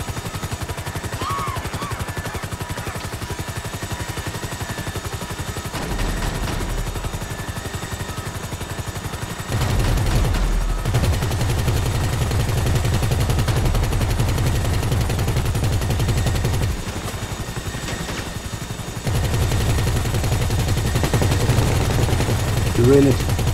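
Rapid cannon fire from a helicopter in GTA V, aimed at a moving target. Sustained bursts of loud automatic shots over a steady rotor drone, with short pauses between volleys.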